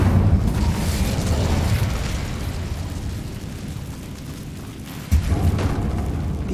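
An Incendio fire spell cast in Hogwarts Legacy, a loud roaring, booming burst of flame that rumbles steadily, eases slightly, then swells again with a fresh whoosh near the end, with no talking.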